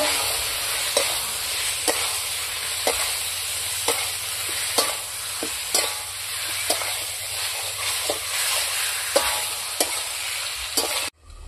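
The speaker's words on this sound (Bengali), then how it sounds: "দেখুন মশলাটা ভালো করে কষে নিয়ে আমি বাঁধাকপি আলুটা দিয়ে দেব" Cabbage and potato fry with spices in a pan for a village-style Bengali red curry, a steady loud sizzle broken by regular scraping stirs about once a second, with no talking.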